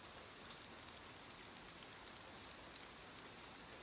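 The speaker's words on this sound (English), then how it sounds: "The rain softens again." Soft rain falling on a station roof, a fine, even hiss of drops spread wide and steady throughout, faint and continuous with no voices.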